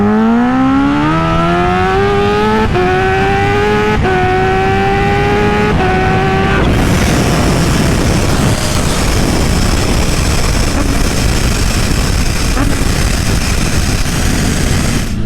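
A Kawasaki H2 motorcycle on a stretched chassis makes a second-gear dyno pull: a loud engine whine climbs in pitch in several rising sweeps, then breaks into a sustained, roaring full-throttle blast that holds steady to the end.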